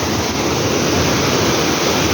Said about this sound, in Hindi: तो किस शिद्दत के साथ पानी आ रहा है।